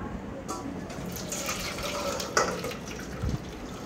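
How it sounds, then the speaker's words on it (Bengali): Cooked chicken curry poured from a pot, a wet sloshing gush with a couple of sharper splashy clinks from the vessel, fairly close and moderate in volume. "এবার ঢেলে নেব।"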